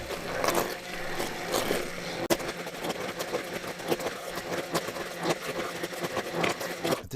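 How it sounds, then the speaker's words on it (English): A handheld immersion blender purees soup on low speed, a continuous buzzing motor whir with slight wavering and a brief knock partway through, close and alone without talk. "if you have a handheld immersion blender, this works even better, much quicker"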